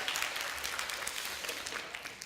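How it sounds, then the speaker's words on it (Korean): Applause from a church youth-service audience for two people called up on stage, a steady patter of clapping throughout at moderate level. "우리 두 명 올려서 박수."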